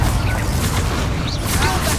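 A Confringo explosive spell goes off in the Hogwarts Legacy game, a loud, sustained rumbling blast with crackling bursts under shouted spell-casting in combat.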